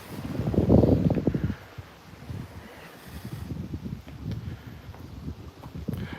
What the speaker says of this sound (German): Aber es geht schon ein bisschen der Wind.